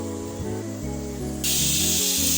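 A pressure cooker cooking biryani with rampe leaves releases steam after whistling: a steady hiss under a background melody, suddenly jumping louder and brighter partway through, with no talking.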